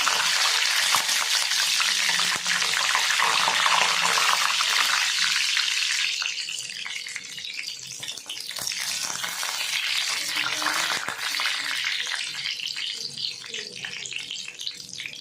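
Cumin seeds and curry leaves hit hot oil in a pan, with mustard seeds already in, while a tomato chutney is being cooked: a loud, steady, close sizzle and crackle that eases slightly partway through.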